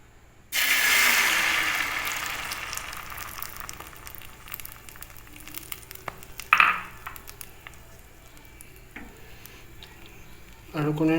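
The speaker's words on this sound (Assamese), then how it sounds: "আৰু আমাৰ কেৰাহীটো গৰম হোৱাত ইয়াত এতিয়া মই কণীৰ মিক্সাৰটো দি দিম।" Beaten egg mixture poured into a hot pan starts frying with a burst of sizzle that settles into a steady hiss, with a brief clatter midway and another sharp sizzle near the end.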